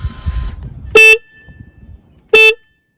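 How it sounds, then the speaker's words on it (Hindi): Two short, loud beeps of a Royal Enfield Super Meteor 650 motorcycle horn, separated by a pause, with quiet rumbling in between. "आप बजा के सुना सकते हो इसका हॉर्न?"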